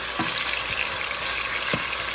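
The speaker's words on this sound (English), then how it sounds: "We're going to brown this off." Chicken pieces browning in hot oil in a pot, a dense steady frying sizzle close up with a few soft knocks as pieces shift, and no voices.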